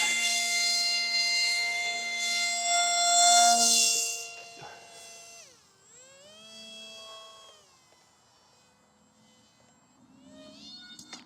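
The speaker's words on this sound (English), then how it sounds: "I got the paraglider up in the air, and I quickly killed the throttle because it scared me." A small RC paraglider's electric motor whines steadily at half throttle during takeoff, then the pitch drops away and sweeps as the throttle is cut, leaving a quiet tail with a faint rising whine.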